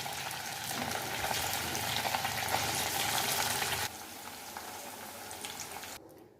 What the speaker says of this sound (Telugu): ఇప్పుడు డీప్ ఫ్రైకి ఆయిల్ వేడి చేసుకుని మనం మ్యారినేట్ చేసుకున్న చికెన్ని కొద్దిగా పకోడీలా వేసుకొని మీడియం ఫ్లేమ్